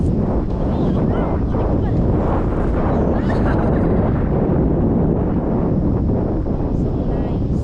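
Heavy wind buffeting the microphone, a loud continuous low roar and rumble with no breaks, drowning out everything else.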